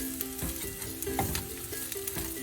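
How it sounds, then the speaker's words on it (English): Rice stirred and broken apart in a hot frying pan, a steady sizzle of fat under scraping spatula strokes that recur at a loose rhythm, close and moderately loud, with no talk. "Let's get this rice all separated here."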